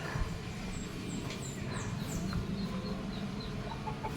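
Hens cluck at their favourite egg-laying spot in a farmyard, with repeated short calls over a busy, close background of rustling and low chatter from the flock.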